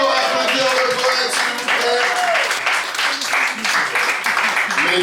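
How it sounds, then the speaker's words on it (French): An audience applauds a poet at a French–Quebec slam poetry tournament, a dense, loud wash of many hands clapping close by, with voices talking and calling out over the top. "Encore applaudir le poète"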